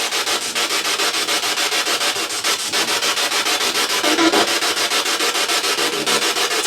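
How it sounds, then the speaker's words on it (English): A spirit box radio sweeps rapidly through stations, making a loud, steady stream of hissing static chopped into fast, regular pulses, with brief tonal blips. No voices. "fire up the spirit box"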